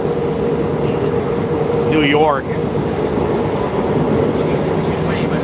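Steady rumble of a moving train in the New York area, loud and continuous throughout, with a brief higher squeal partway through and a person speaking over it.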